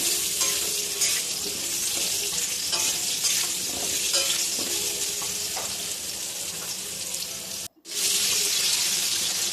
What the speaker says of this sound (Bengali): আলুটা হালকা একটু ভাজা ভাজা করে নেব।